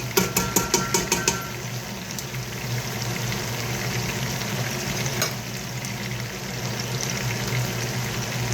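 Seasoned rinse water from a bowl poured into a hot pot during meal prep, opening with a quick series of rhythmic clinks, then a continuous sizzling, bubbling wash of liquid under the pour.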